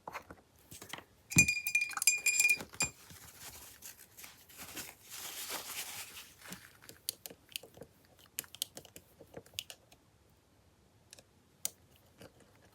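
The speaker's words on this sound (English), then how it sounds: "the gold does need shaking and stirring because it gets really glopped up at the" A glass bottle of gold paint with settled pigment is shaken, giving bursts of sharp clinking rattles close by with quiet pauses between them and no voices.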